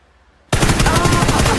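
A sudden loud burst of rapid automatic gunfire erupts after a short quiet moment in a first-person shooter game, the shots rattling continuously at close range.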